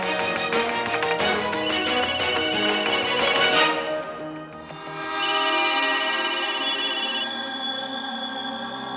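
A telephone rings loudly in a Hindi TV serial, playing a bright melodic ringtone in two bursts separated by a short pause.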